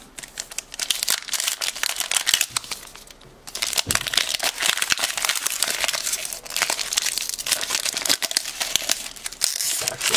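Foil wrapper of a 2016 Leaf Babe Ruth Collection baseball card pack crinkling and tearing open close up, a steady rustle of crumpling plastic with a brief pause, then more crackling handling.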